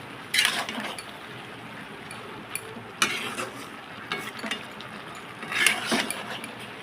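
Spatula scraping and clinking now and then through ridge gourd curry simmering in a pan, with a few louder metallic stirs spaced apart over a soft background.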